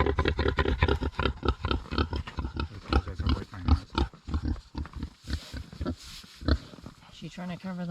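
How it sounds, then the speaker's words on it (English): A Kunekune pig with newborn piglets gives repeated grunts and snorty oinks in close, rhythmic bursts, with squeakier piglet-like sounds near the end and people talking softly over them. "Cute little pig."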